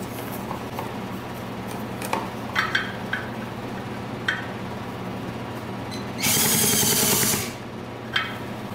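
A power drill spins a small two-stroke racing dirt bike engine to test for spark, whirring in one loud burst of about a second, amid a steady mechanical hum and scattered clicks and taps.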